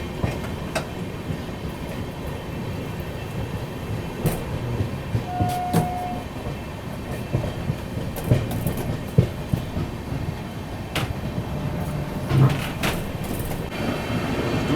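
An Indian Railways express train, the Kaifiyaat Express on the Delhi to Azamgarh route, rolls steadily along the track with continuous rumbling and rhythmic clickety-clack of wheels over rail joints, loud and close from inside the coach.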